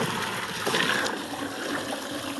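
Fresh water flowing in a village to water a buffalo, a steady close trickle and splash with a brief louder gush partway through and no talking.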